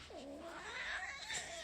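A cat gives a single drawn-out, rising-then-falling meow, faint and somewhat distant over a steady low background hum.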